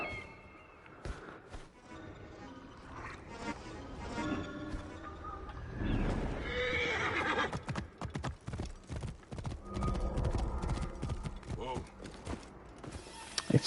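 Horse hooves clip-clop and gallop across rough terrain in Assassin's Creed Origins, rhythmic and close, with an occasional whinny and creaking tack, while a voice talks over them.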